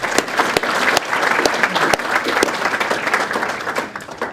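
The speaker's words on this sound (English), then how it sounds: "Can we just give him another round of applause," An audience at a Tasmanian ICT industry business lunch gives Malcolm Turnbull a sustained round of applause, dense and fairly close, clapping steadily throughout and tapering slightly toward the end.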